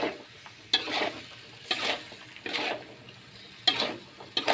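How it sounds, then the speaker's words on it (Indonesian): Pickled carrots with salt, sugar and MSG being stirred in a pan, a series of scraping strokes that come in bursts about once a second over a soft background hiss, close and clear with no talking. "Lanjut kita masukin garam, gula sama micin, diaduk-aduk sampai mateng"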